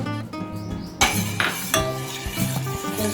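Spoon clinking and scraping inside a pot while raw milk is stirred into hot milk for homemade chocolate ice cream, several metallic knocks close by.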